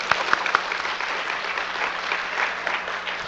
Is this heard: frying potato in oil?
no